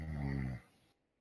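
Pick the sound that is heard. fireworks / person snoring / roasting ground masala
person snoring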